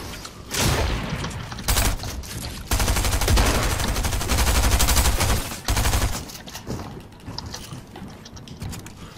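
Rapid gunfire and mechanical weapon sounds in a Fortnite duo arena match come in loud clustered bursts, with a longer sustained volley in the middle and quieter clicks between.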